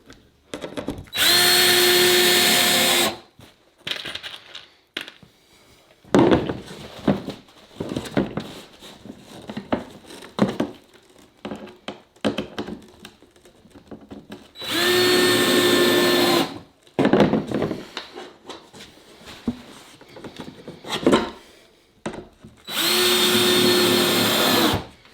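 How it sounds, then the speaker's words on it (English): A power drill drives screws into a long-gun shipping box in three loud, sustained bursts, separated by quieter stretches of handling and tapping. "So we want to put our screws in."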